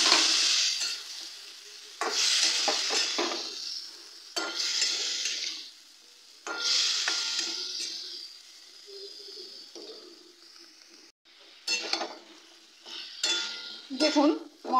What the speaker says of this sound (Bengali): মশলাটা দিয়ে কষিয়ে নিয়েছি